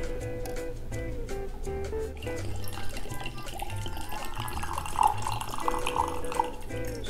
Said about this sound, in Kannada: ಸೊ ಲೋಟಕ್ಕೆ ಹಾಕ್ತಿದ್ದೀನಿ.